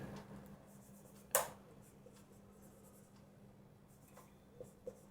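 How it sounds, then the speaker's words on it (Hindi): A pen writes on paper while a maths exercise on set theory is being solved. Faint, soft scratching includes one sharper stroke and a couple of light taps, over a low steady room hum. "तो लिखेंगे हियर"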